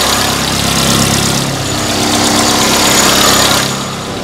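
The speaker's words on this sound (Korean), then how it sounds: "지금 냉간 시동이어서 RPM이 올라가 있는 상태라 소음이 많이 좀 시끄럽다는 점 알고 계시면 될 것 같습니다" A Samsung New SM5 LPG sedan engine idling at cold start with raised RPM, a loud, steady, close-up drone with low rumble and mechanical whir, slightly dipping then holding before easing off near the end.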